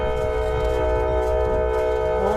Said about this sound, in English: Standing on a little hill that gives me a great view of the train departing.